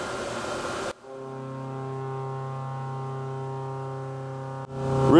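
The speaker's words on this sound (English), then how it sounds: "we'll start the spindle at 200 RPMs. We'll fire up the coolant" A CNC mill spindle turning at low speed with coolant running gives a steady tonal hum with stacked harmonics, loud and close, bracketed by bursts of broadband noise at the start and end.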